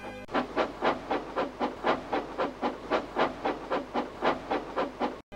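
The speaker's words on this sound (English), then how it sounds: "Crosby Station when Percy puffed in with the mail train" The steam locomotive Percy from Thomas and Friends pulls a heavy mail train into Crosby Station, its exhaust chuffing in a steady, even rhythm of about twelve strong hissing puffs, close and loud with no voices over it.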